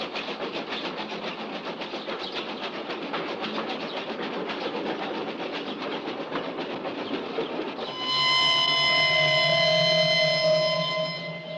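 Train running on rails in a horror film, with a steady rumbling clatter of wheels for several seconds, then a loud sustained tonal horn blast near the end.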